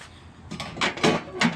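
Door of a cheap $49 countertop pizza oven being shut, a few short scraping and clunking knocks of light metal, close and fairly quiet.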